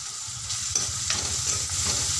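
Capsicum and carrots being stir-fried for veg chowmein, a loud, steady sizzle with rhythmic scraping of a spatula against the pan, close up and without talk.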